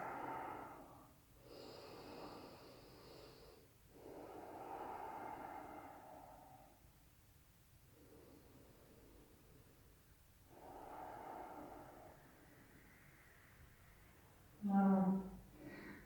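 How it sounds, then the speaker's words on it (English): Slow, deep breaths in a yoga child's pose, forehead to the floor: several long, soft inhales and exhales, close and quiet, with a short louder snort near the end. "let's just take a couple breaths"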